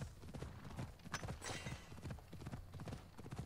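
Clip-clop of horse hooves at a steady trot in Assassin's Creed Odyssey, continuous rhythmic thuds close up throughout with a brief whinny-like burst partway through.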